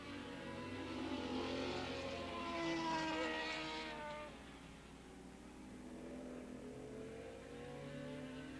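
Formula 2 race cars circuit Willow Springs International Raceway during a 1987 ARRA event, engines rising and falling as they pass at moderate distance, a steady mid-pitched roar swelling then easing, with faint crowd ambience beneath.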